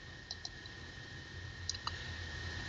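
Two pairs of quick, faint mouse clicks on a password reset form's Submit button, close and light over a low steady hum.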